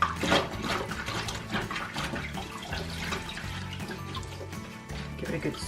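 Fabric is rinsed in water in a plastic tub, giving faint, continuous splashing and sloshing with irregular surges as it is moved about.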